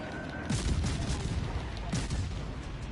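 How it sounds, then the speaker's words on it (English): Naval guns firing from several warships in World of Warships Legends, heavy booming salvos rolling over one another in a dense, continuous barrage with no talk over it. "There are 4 ships shooting at me"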